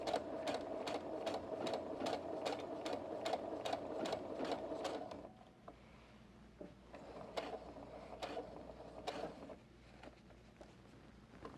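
A sewing machine running a blind hem stitch, with fast, evenly spaced needle thumps for about five seconds, then quieter and slower, more irregular stitching over a low hum.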